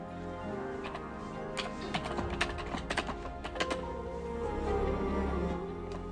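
Someone types a note on a computer keyboard, a quiet run of soft key clicks with a few brief pauses. No one speaks over it.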